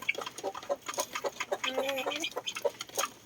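Silkie and frizzle chickens in a backyard cluck and murmur close by, a busy stream of short overlapping clucks with a longer drawn-out call in the middle, and no clear voices.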